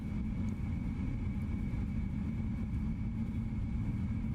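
Boeing 777 jet engines taxiing in the video game MSFS 2024, a steady low engine rumble with a faint constant whine, moderately loud and unbroken, no talk.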